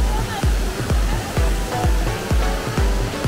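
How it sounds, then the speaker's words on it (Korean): Datanla waterfall in Dalat, Vietnam, gives a steady, close, broadband roar of rushing water, cut by regular low thumps about twice a second. "저 뒤에 보이는 것이 폭포입니다."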